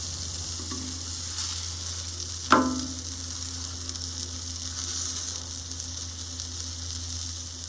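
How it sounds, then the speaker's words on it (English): Buttered bread sizzles on a griddle over a small homemade solo-type stove, a steady broadband frying hiss with one sharp clink near the start, no voices. "Now we're griddling our buttered bread."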